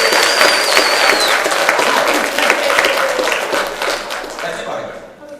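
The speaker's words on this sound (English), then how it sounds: "we need to also clap for Dalton Snow, who graduated from junior high, as well as Steve Kohlmeyer." Church congregation at a Sunday service applauding graduates, a dense burst of clapping from many hands with cheering voices, near and loud before fading out.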